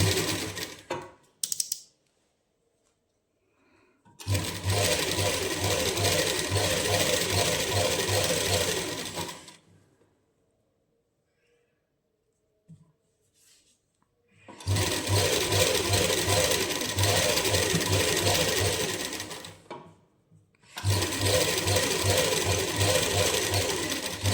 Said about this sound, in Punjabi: ਪਹਿਲਾਂ ਆਪਾਂ ਨੇ ਇਸ ਤਰ੍ਹਾਂ ਸੀਨ ਲਾ ਲਾਂਗੇ ਡਬਲ ਕਰਕੇ